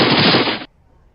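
A loud, rapid burst of gunfire lasting over half a second, then abrupt quiet with faint low rumble.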